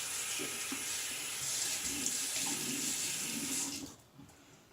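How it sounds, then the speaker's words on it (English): Hands are washed under a running bathroom tap after a shave, a steady close splash of water that cuts off near the end, leaving quiet. "Wash the hands."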